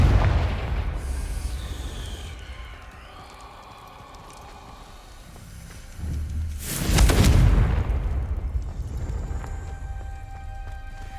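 In the Hogwarts Legacy video game, a Confringo explosive spell goes off as a sharp, loud burst with a rumbling low boom about two-thirds of the way through, surrounded by softer magical whooshes and ambient game sounds.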